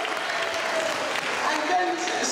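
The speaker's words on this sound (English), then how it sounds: "So please give him a big round of applause." Audience at an Eid celebration in a town hall applauds, a steady, moderately distant wash of clapping with some murmuring voices underneath.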